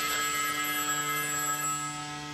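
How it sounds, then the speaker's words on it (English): A telephone rings steadily and loudly in a comedy scene, a continuous bright electronic bell tone sustained alone without any talk. "We're gonna answer the ringing phone."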